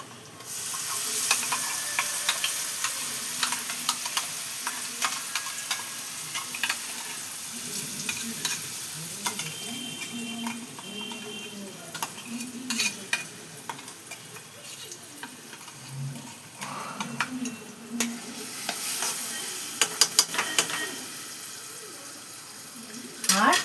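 Spice paste frying in a pan for a pointed gourd dish, with crackling sizzle and scraping stirs over about twenty seconds, bursts of running tap water and someone talking intermittently throughout.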